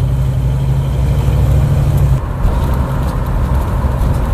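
A car fitted with a Chinese-made carburetor pulls away, its engine holding a steady loud drone with a low hum that drops off midway as it moves off, running on alone without voices.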